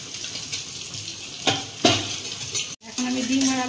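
Potatoes sizzle and fry in a pan alongside eggs for a quick egg curry, with spatula stirring clatters and scrapes breaking through the steady hiss, a brief dropout, then a clear tonal hum.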